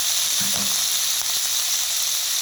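Mushrooms with corn and string beans sauté in hot oil, giving a loud, steady sizzle with a brief stirring scrape near the start.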